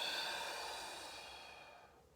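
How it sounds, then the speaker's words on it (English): A soft, quiet exhale during a Pilates rotation exercise, one slow outbreath that fades away over about two seconds. "Breathing in and coming back. Breathing out."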